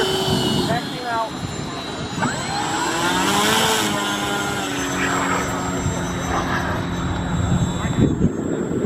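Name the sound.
model Pilatus PC-21 airplane taxiing out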